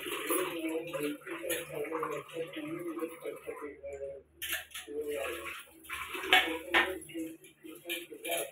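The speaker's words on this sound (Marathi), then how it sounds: "धुवून घेते" Prawns are washed under running water in a home kitchen, with splashing water, clinking dishes and metal, and someone talking over it in bursts.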